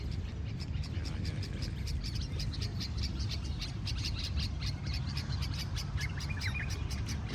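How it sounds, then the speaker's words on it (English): Birds chirp and tweet in quick, repeated bursts in a busy garden with date palms in Qatar, fairly loud over a steady bed of crowd chatter and background murmur. "These are birds."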